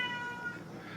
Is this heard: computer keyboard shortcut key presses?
no